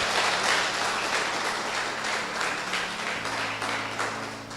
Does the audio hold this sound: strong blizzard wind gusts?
no